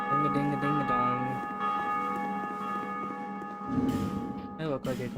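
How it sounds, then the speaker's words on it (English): A bell rings in the video game Dark Souls 2, its sustained, humming tones layered and resonating throughout, with a few sharper rings near the end and a voice audible at points. "I need to ring the bell in order to access it"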